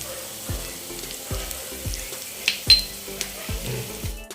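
Cabbage leaves sizzle in a hot pan with salt and turmeric while being stirred, each scrape of the spatula bringing a fresh crackling burst in a rhythm of roughly one stir every half second, close and fairly loud.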